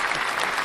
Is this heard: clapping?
yes